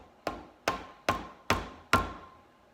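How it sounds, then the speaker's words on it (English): Five sharp hammer taps seat a wheel bearing race on a 1971 Volkswagen Super Beetle, evenly spaced about every half second, each a close metallic knock ringing briefly before fading. "you grab your hammer and you slightly tap"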